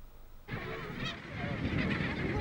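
A Caspian gull gives a loud, harsh laughing call that starts abruptly and carries on in rapid nasal bursts, close and clear outdoors in a nature park.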